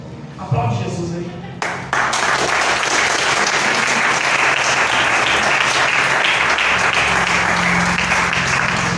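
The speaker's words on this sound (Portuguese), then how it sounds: "Aplaude Jesus aí" A church congregation bursts into loud, sustained applause during a worship service, dense clapping that swells after a brief spoken lead-in and carries on steadily to the end.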